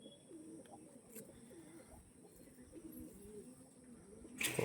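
Pedigree pigeons, pure-line females among them, coo in repeated low burbling phrases throughout, close and steady, with a brief rustle near the end.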